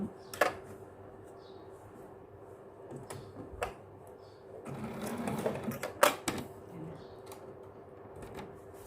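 A sewing machine stitches a stand-up collar onto a garment, running in short bursts with pauses and a few sharp clicks and knocks as the fabric is shifted along the curve.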